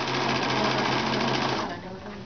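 A sewing machine with a quarter-inch foot and guide stitches at a fast, steady hum close by and then slows near the end, while someone talks over it.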